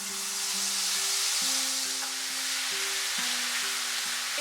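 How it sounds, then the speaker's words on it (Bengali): Garlic paste and mustard paste with five-spice seeds frying in hot oil over a low flame for Bangladeshi mango pickle, a steady close sizzle with gentle stirring under soft background music. "একটু নাড়াচাড়া করে নেব"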